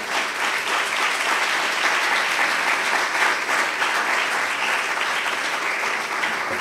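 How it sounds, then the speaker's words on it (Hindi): A church congregation applauds loudly during a sermon, a dense, sustained wash of clapping from many people that holds steady throughout with no speech over it. "जोरदार तालियां खुदा के जलाल के लिए"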